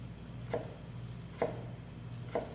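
Knife slicing vegetables on a cutting board in a cooking class, three quiet, evenly spaced chops about a second apart over a low steady hum, with no talk.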